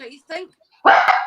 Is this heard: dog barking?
yes